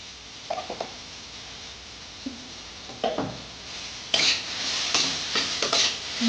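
Chopped banana stem fries with cumin powder in a pan, a low sizzle broken by intermittent scraping and clattering of a spatula stirring, louder toward the end.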